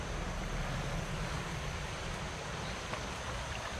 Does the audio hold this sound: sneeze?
no